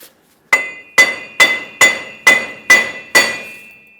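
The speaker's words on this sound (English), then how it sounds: "take a hammer and tap the wheel bearing side to side" Hammer tapping a wheel bearing side to side on a 2003-2009 Dodge Ram 2500, seven loud ringing metallic strikes at an even, steady rhythm, close up with no talking.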